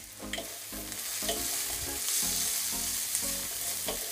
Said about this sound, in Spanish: Lo vamos a rehogar un par de minutos a fuego suave